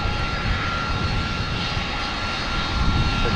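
A jet aircraft takes off from runway 30 left at Minneapolis–St. Paul airport, producing a loud, steady, broadband engine roar that holds constant throughout with no voices.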